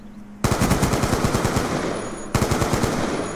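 Unsilenced automatic gunfire in Call of Duty: Black Ops 2 rattles out in two loud, rapid bursts, the second starting after a brief break, each a dense run of close, punchy shots.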